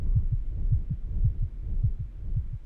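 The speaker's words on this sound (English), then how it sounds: "it brings up the heartbeat so you can hear it more" Soft, muffled heartbeat in a quiet ambience event of the Hollow City video game, a steady low double thump repeating about every half second with nothing else over it.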